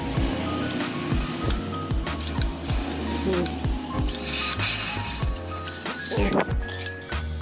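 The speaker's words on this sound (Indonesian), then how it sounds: "Jadi kalau sudah dekat lubang sini, bisa disemprot ya." Steady hissing aerosol spray on the body mounts of a Toyota Land Cruiser 80 series runs throughout, with repeated mechanical clicks and knocks underneath; no talking.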